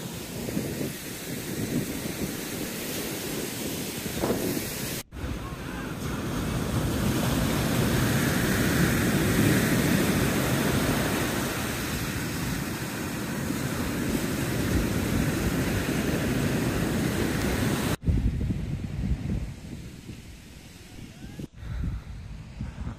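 Broad, rushing wash of surf with wind buffeting the microphone, waves swelling and receding, a few muffled voices underneath.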